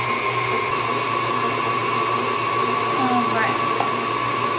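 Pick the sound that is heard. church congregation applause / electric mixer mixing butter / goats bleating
electric mixer mixing butter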